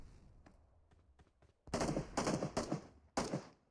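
Bursts of automatic gunfire from PUBG Mobile: a few faint, distant shots, then loud close volleys in rapid strings with brief gaps.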